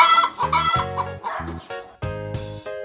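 A hen clucking close and loud, a quick series of harsh, rhythmic clucks in several bursts with short gaps, no other voices.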